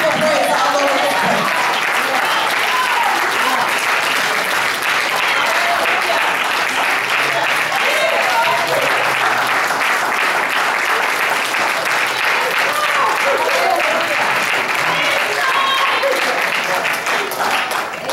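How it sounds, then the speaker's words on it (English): A church congregation claps in praise, a dense, sustained wave of applause with cheering voices mixed in, filling the room for nearly twenty seconds. "Give the Lord a hand clap of praise all over this place."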